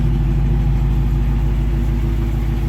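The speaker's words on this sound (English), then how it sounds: "Who doesn't like the sound of a Hemi engine?" A 2019 Dodge Challenger R/T's Hemi V8 engine idles close by with a deep, steady, throbbing rumble, loud and unbroken throughout.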